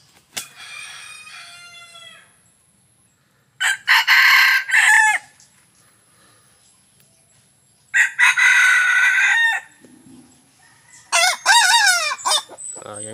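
An old rooster crows several times, loud and close, its hoarse, ragged calls separated by quiet gaps, with faint clucking in between.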